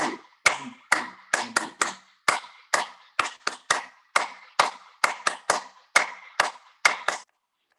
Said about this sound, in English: And then keeping your finger apart, you clap them